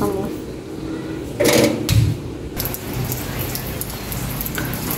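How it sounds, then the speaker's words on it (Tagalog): Light, fine drizzle falling, a soft steady hiss throughout with a brief louder patter or clatter near the middle. "Ganito lang po yung pagka-ulan niya. Parang pinong-pinong ulan."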